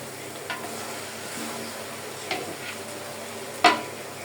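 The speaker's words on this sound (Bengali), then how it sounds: "রাইসটা কিভাবে আমি ভেজে নিব" Cooked rice stirred and fried in a pan for fried rice, a steady quiet sizzle with a few soft scrapes and one sharp clink of a utensil against the pan.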